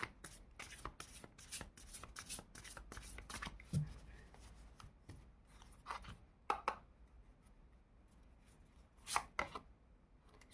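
Tarot cards are shuffled close up in a fast run of crisp riffling slaps, followed by sparser single flicks and taps with quiet gaps between them.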